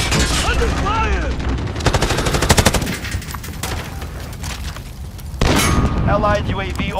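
Rapid automatic gunfire in a first-person shooter video game, loud and close, with dense bursts of shots, clanging impacts and brief announcer voices over the fighting.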